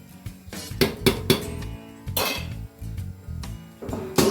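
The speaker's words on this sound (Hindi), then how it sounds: "दोबारा से ढक्कन लगा देते हैं" A metal lid is set back on a large pot of sweet mutanjan rice cooking over a small gas flame, producing a string of close metallic clanks and clinks as it is handled.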